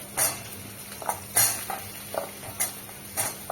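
Chopped pumpkin tipped into a pan already holding potatoes and pointed gourd for a vegetarian drumstick-stem chorchori, followed by a series of close scraping stirs and light clanks against the pan with a faint fry underneath.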